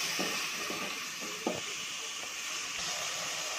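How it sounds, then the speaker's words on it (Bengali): Loitta dried fish sautéing with salt in a pan, giving a soft continuous sizzle with a few scraping stirs of the spatula, fairly quiet and close. "এরপর 1 চামচ লবণ দিয়ে ভালো করে কষিয়ে নেব।"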